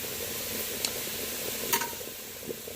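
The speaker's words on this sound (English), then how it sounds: "Let's give this a little stir." Natron salt mixture being stirred, a soft gritty scraping with a couple of brief scratchy accents, close and quiet against a steady hiss.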